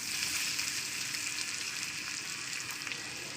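Egg frying in a hot pan over boiled potato and pointed gourd, a steady close sizzle and crackle throughout with no talk.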